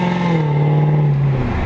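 A Mercedes-Benz CLK63 AMG engine holds a loud, steady high rev close by, its tone sliding slightly lower before easing off near the end.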